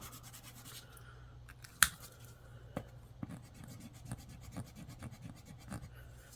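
A Pilot FriXion 0.7mm fineliner erasable marker pen scratches faintly across paper in short, close strokes, with one sharp tap partway through and no talking.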